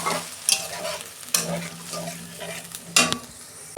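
Tomato fries in a pan with cinnamon, cloves, cardamom, green chilli and ginger paste, giving a low sizzle under repeated sharp scrapes of a spoon stirring against the metal.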